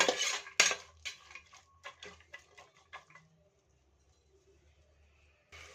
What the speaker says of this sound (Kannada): ಬಟಾಣಿ ಕೂಡ ಚೆನ್ನಾಗಿ ಫ್ರೈ ಆಗಬೇಕು